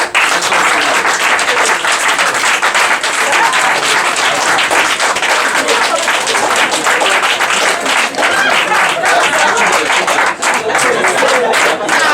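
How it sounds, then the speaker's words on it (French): Sustained applause from a large crowd, a dense, steady wash of clapping that holds at an even loudness for about twelve seconds. "Applaudissez Daouda Fall."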